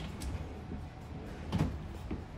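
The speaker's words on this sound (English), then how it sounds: "Cabinets, drawers." Cabinet drawers in a mobile home slide open and shut, a few soft wooden knocks and thumps over a quiet indoor background.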